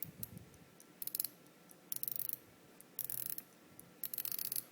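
Ratchet clicks from a unidirectional dive bezel on a Marathon LGP watch being turned, coming in quick, faint bursts of fine crisp ticks separated by short pauses, close up and quiet.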